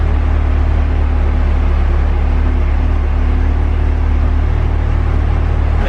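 A Corvette's front lift raising the car, a loud steady motor whir and low rumble running unbroken throughout, close by with no talk.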